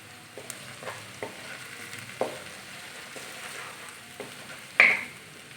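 Ginger garlic paste sizzles and fries in a pan with browned onions, a steady soft crackle broken by several scraping stirs and one sharper clatter near the end, with no talking.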